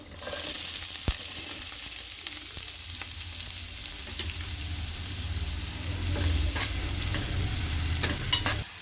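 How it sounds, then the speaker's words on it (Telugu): Green chillies and onions frying in hot oil while being stirred for a spicy mutton curry, a steady close sizzle with scraping stir strokes and a few sharp clinks, continuous throughout. "పచ్చిమిర్చి వేగినాయి కదండి ఇప్పుడు ఉల్లిపమ్మకులు వేసుకోవాలి"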